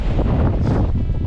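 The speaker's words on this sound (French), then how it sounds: "Il y a trop de vent, les gars." Strong mountain wind buffets the microphone beside a wild trout stream, a loud, continuous low roar with no break and no voices.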